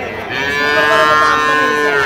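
One long, loud, close moo from a cow at a cattle market in Barisal, steady and droning, with almost nothing else audible around it.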